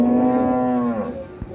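At a cattle market, a single cow lets out a loud, close moo that lasts about a second and then fades into faint background noise, with no talk.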